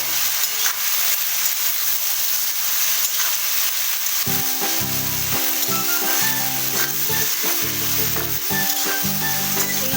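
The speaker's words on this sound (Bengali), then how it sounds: "আমি ঝিঙেটা দিয়ে দেবো এর মধ্যে আবারও ভালো করে নাড়াচাড়া করবো" Ridge gourd stirred and fried in a pan sizzles loudly and steadily up close; partway through, a low tonal hum joins in beneath the frying and repeated stirring scrapes.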